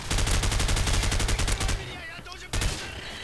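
Rapid automatic gunfire from Call of Duty 4 multiplayer rattles in a dense burst for nearly two seconds, stops, then a short final shot cracks out.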